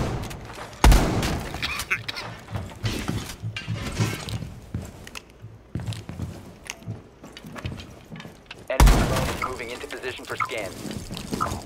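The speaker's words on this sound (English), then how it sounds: "I heard an explosion there" A loud, low explosion boom bursts out near the start and another near the end in the video game Rainbow Six Siege, amid constant game noise, clattering and people talking.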